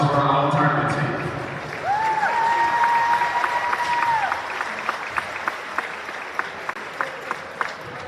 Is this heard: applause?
yes